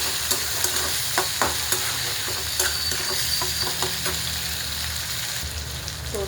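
Chopped tomato being stirred into a frying onion masala in a pan, with a steady sizzle and hiss under repeated scraping strokes of a spoon, close and clear with no talking.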